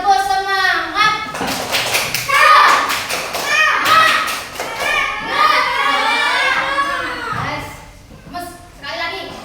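Schoolchildren in a fourth-grade class chant and clap in unison, a loud burst of rhythmic hand claps mixed with their shouting voices, with an adult's voice heard before and after.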